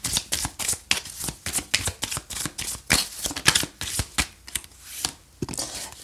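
Tarot cards are shuffled by hand for a three-card love reading, producing a close, rhythmic series of crisp riffling slaps and swishes, one after another, with no talk over them.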